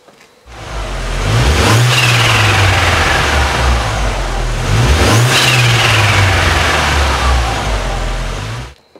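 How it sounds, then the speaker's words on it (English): A car engine with a failing turbocharger on the compressor side revs up twice in long pulls, with a loud, strained whine rising and falling over a steady drone, close and without talk. "very distinctive turbo failure sign and indicates that there's a failure with the turbo on the compressor side"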